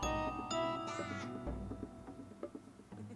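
A crow caws repeatedly from the Barrels of Dead Bird card in Plants vs Zombies Heroes, harsh cries over game music and effects, fairly loud and mixed.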